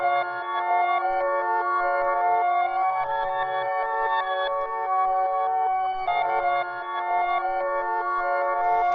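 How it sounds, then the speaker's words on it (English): Reversed opening bars of a hip-hop beat in FL Studio, steady sustained tonal chords with a swelling backwards character and low bass notes underneath, continuous and fairly loud with no talking. "it'll give it that backwards feel"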